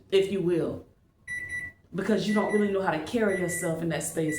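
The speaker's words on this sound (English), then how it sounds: "I have my food on the timer." A kitchen food timer alarm beeps in a short burst of steady electronic tones during a pause, while a person keeps talking before and after it.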